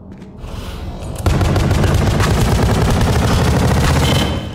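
Rapid, continuous automatic gunfire from a weapon in the horror video game Pony Nightmare, starting lighter and then jumping to a loud, dense burst of fast shots that runs without pause to the end.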